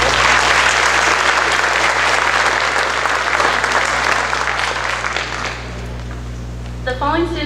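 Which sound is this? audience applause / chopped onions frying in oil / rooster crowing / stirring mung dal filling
audience applause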